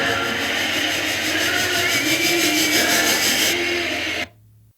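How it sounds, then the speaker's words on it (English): A cinematic riser sound effect named Anticipation, a dense, loud, steadily sustained rushing texture with a pulsing upper shimmer that holds for about four seconds and then cuts off abruptly into a faint low hum. "Maybe there's a riser called Anticipation on Sounds of It."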